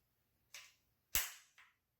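Harris ultralight rifle bipod legs snapping into their locked positions: three sharp metallic clicks in a quiet setting, the second loudest, each with a short ringing tail.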